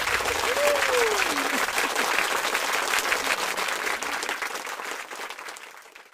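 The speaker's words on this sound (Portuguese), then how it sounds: "Vamos dar uma salva de palmas pra ela aí." Applause from a small group during an outing to go fishing for cambeva, steady dense clapping across the whole stretch, fading slightly at the end, with a brief voice near the start.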